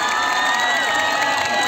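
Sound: festival crowd applause

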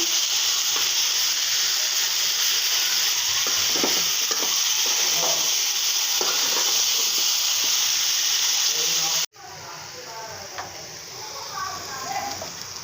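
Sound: frying and stirring bottle gourd greens in a pan

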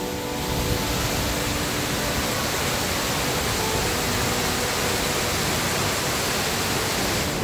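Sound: waterfall pouring water

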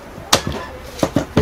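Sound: 12 V battery pack clicked into cordless screwdriver

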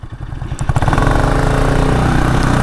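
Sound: sports motorcycle engine being ridden in a drag race

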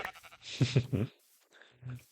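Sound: sheep bleating in Minecraft video game

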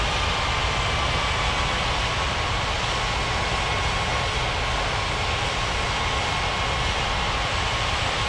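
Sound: airliner taxiing in the video game Unmatched Air Traffic Control

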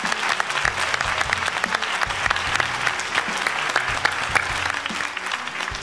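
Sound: audience applauding Rafael

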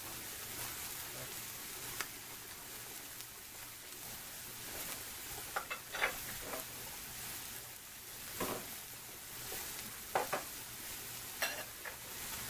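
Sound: onions and peppers sizzling on a Blue Rhino griddle

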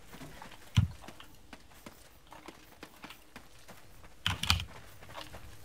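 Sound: typing a name on a computer keyboard

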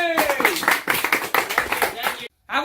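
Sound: audience clapping

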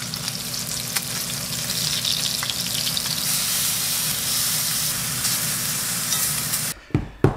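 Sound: pork belly frying in a pan with oil spattering

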